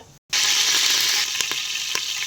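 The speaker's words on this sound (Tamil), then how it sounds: "ஒரு குக்கரில் எண்ணெய் ஊற்றி எண்ணெய் சூடானதும் பெருஞ்சீரகம் அடுத்து கருவேப்பிலை" Fennel seeds and curry leaves sizzle and crackle in hot oil inside a pressure cooker, a loud, steady close-up fry with a few sharp pops, beginning abruptly after a brief silence.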